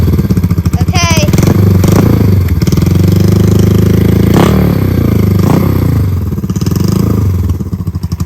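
A Honda CL350 motorcycle engine runs loud and close with an uneven, lumpy idle and a few throttle blips, while a voice talks over it.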